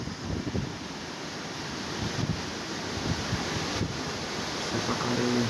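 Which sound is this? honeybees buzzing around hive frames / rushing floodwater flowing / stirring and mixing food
rushing floodwater flowing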